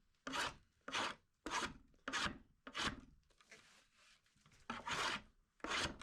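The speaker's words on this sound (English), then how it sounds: "when I need to shave off more material in one swipe, I'll flip it over with the bevel up" A sharp draw knife shaves a hand-split wooden roof shingle in repeated close rasping strokes, about eight even swipes separated by short pauses.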